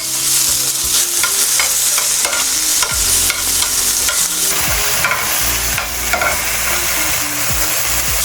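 Alaskan salmon frying in a pan alongside potatoes and cabbage, a loud, steady sizzle with stirring and scraping clatter running throughout, close up and with no talking.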